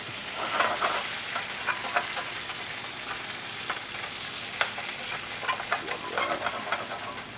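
A grated potato rosti sizzles and crackles steadily in hot oil in a pan after being flipped, with sharper spatters popping through the continuous frying hiss at close range.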